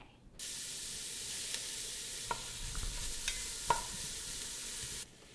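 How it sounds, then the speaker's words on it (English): Onions and garlic saute in heated oil, giving a steady, close sizzle that begins abruptly and runs for about five seconds, with a few sharp pops and light clicks along the way. "we're going to add the onions and garlic to the oil for about 4 minutes to let it saute"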